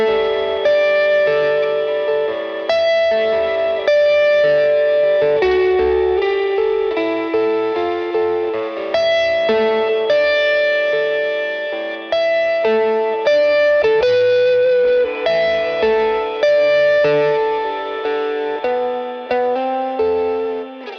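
Guitar chords through a Boss RV-200 reverb pedal wash through heavy reverb and echo, each strum blooming and trailing off into a spacious, distant haze, played continuously without talk.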